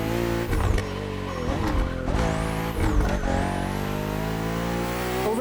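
BMW M2 and M4 race cars from 2013–2014 series tear along a narrow, twisty track in The Crew Motorfest, several engines revving and shifting loudly and steadily with brief tire squeal as they pass close by.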